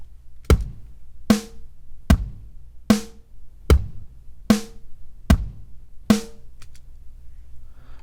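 Programmed drum pattern in Pro Tools, alternating a dry kick and a snappy snare in a steady even rhythm for eight hits, close and clean, with no talk.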